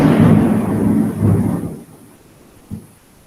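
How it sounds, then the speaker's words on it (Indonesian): Thunder rumbles loudly through heavy rain during a storm, a broad roar for over a second that fades, followed by a short sharp crack near the end. "Kakak ke situ apakah banyak petir?"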